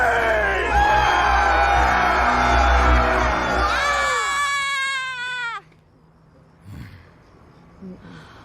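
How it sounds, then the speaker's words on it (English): Audience at a live Halloween premiere screaming together, a loud dense wall of high-pitched shrieks that swells, then drops away to near quiet with a few faint voices after. "Now let me hear you scream!"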